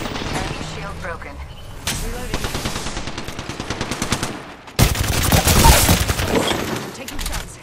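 Rapid automatic gunfire in a shooter video game crackles in dense bursts. A sharp loud volley breaks out midway, with game voice lines heard over the shooting.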